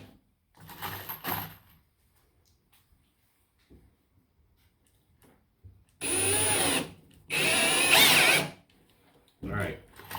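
Power drill driving screws into a board of a modular HO scale railroad bench, short whirring bursts early on and then two longer loud runs, separated by quiet pauses and a faint voice.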